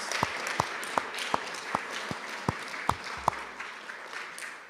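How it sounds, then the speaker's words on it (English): Chapel audience applauding a school musical cast, faint and sparse: a handful of distinct claps spaced regularly over a few seconds rather than a full ovation, with a soft murmur beneath. "Could we give them a round of applause?"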